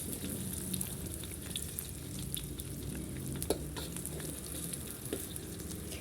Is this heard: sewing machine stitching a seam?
no